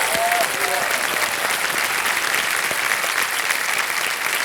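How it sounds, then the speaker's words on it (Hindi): A studio audience on the TV quiz show Kaun Banega Crorepati breaks into sustained applause, a loud, dense and steady roar of many hands clapping, with a brief voice at the start. "तालियां बज जाए इनके लिए एक बार फिर से"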